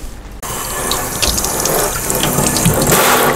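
Tap water runs steadily into a kitchen sink as fresh mushrooms are rinsed for a homemade pizza, a broad, continuous splashing hiss that starts abruptly after a brief quiet moment and stays loud and close throughout.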